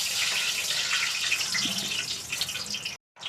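Two litres of refined oil pour into a cooking pot, making a continuous close splashing hiss for about three seconds before stopping abruptly.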